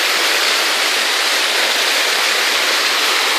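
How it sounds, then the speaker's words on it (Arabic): Giessbach waterfall near Interlaken roars in a steady, dense, loud rush of falling water with no pauses or other sounds. "من المعالم المهمة جدا هنا في مدينة انترلاكن، اسمه قصبخ، شلال قصبخ"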